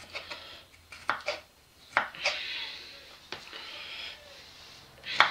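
Kitchen knife slicing garlic cloves into thin slivers on a board, sharp irregular taps and clicks scattered through the stretch, fairly near, with soft breathing and quiet background noise between cuts.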